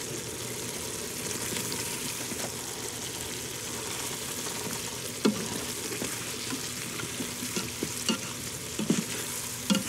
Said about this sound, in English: Let me stir this all up first.